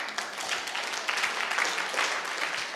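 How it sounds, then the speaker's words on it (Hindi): An audience claps together at a training session in India, a steady burst of dense applause lasting the whole moment, fairly close and unbroken. "ताली बजाओ उनके लिए।"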